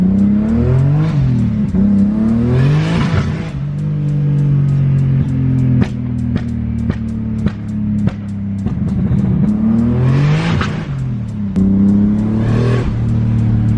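A BMW E46 M3 drift car with a 700hp+ engine revs and accelerates hard, its loud engine note climbing and dropping in repeated surges through gear changes, with sharp pops cutting in between.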